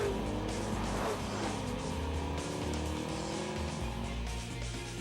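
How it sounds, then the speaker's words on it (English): Ford Taurus SHO with a twin-turbocharged 365-horsepower EcoBoost engine driving, a loud sustained engine roar with rising and falling pitch and tire noise, no voices. "There are engines, and then there's the twin turbocharging, 365 horsepower generating EcoBoost engine in the all-new Ford Taurus SHO"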